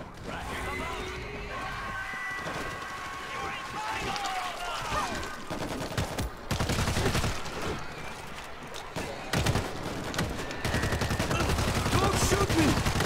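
Players fire guns at swarming zombies in World War Z, with rapid, dense gunfire and bursts crackling continuously amid game noise, under excited talk.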